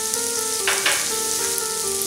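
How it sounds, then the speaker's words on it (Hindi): Garlic and finely chopped carrots fry in a hot pan, giving a loud, close, continuous sizzle with a short burst of stirring partway through. "लहसुन को 30 सेकंड के लिए फ्राई कर लेंगे"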